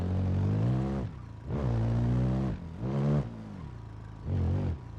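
An open-wheel race car engine in BeamNG revs in four sharp bursts, climbing and falling in pitch between brief lulls, loud and close with no talk.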